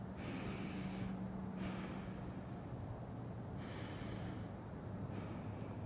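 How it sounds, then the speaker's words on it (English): Two deep breaths during a kids yoga session, each a soft inhale followed by a longer audible exhale, quiet and close, with a low background hum between them. "let's take two deep breaths together"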